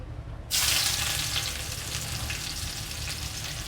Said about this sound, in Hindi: देखें प्याज हमारा ऑयल इतना गर्म था